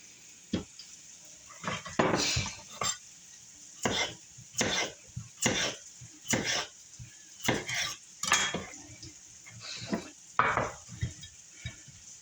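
Finger-thick potato slices for boulangère potatoes are laid one by one into a baking dish, giving a string of close, distinct clinks and soft scraping knocks at an irregular rhythm with quiet pauses between them.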